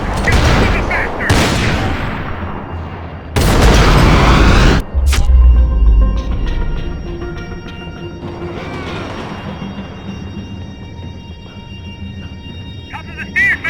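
Gunfire in the video game Max Payne 3: loud bursts of shots and booming blasts in the opening seconds, then a quieter stretch of in-game ambience and scattered action, with voices talking over parts of it.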